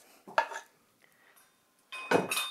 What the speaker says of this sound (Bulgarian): и сега започваме да бъркаме